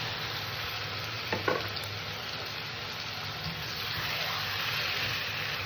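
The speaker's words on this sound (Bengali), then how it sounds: "এবার এখানে আমি চিকেনটাকে দিয়ে দিলাম" Chicken pieces sizzle steadily in oily, well-fried spice paste in a pan, a constant close crackle with a brief clatter early on.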